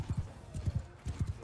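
Horse hooves pound in rapid galloping clusters in the medieval combat game Mount and Blade 2: Bannerlord, a close, rhythmic clip-clop of three quick bursts under faint background noise.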